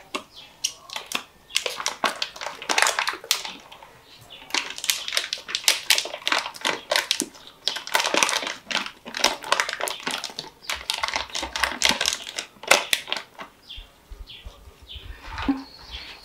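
Quick bursts of knife chopping on a board, cutting ingredients such as rosemary for a Christmas turkey, in dense rapid runs with short pauses between, close and fairly loud, with no talking.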